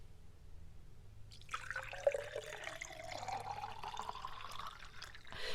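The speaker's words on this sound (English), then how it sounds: "That was real lemonade poured into Joseph's tall glass" Lemonade pours into a tall glass with a steady liquid trickle and splash that begins after a quiet start and continues, close and moderately loud, with no talking.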